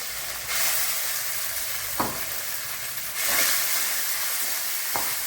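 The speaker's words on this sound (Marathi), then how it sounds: "आता आपण तुपामध्ये शाबूस तांदूळ टाकणार आहे दोन चमचे" Sago pearls sizzle and crackle in hot ghee, a steady frying hiss swelling twice as spoonfuls are added, with a few faint clinks of a spoon against the pan.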